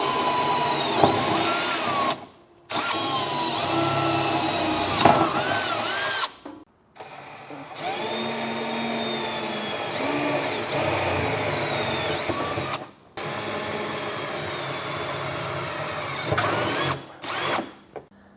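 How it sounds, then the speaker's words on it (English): Power drill running a pilot bit through the bed of a 2024 GMC truck for an underbed gooseneck hitch, several long loud whining bursts separated by short pauses, up close and alone. "take that pilot bit and run it dead center in these holes"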